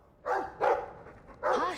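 A puppy lets out three short, close barks in a loose rhythm, each a quick yappy burst separated by brief pauses, fairly loud against a quiet room.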